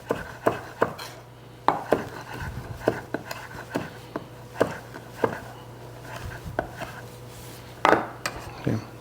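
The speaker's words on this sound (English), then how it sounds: "So I've got it cut into lengths, just like so. And we're going to cut it across. You want to chop it really small." A knife on a cutting board dices raw salmon into small pieces in a kitchen, producing crisp irregular chops with pauses between them, close and clear, with a low steady hum underneath.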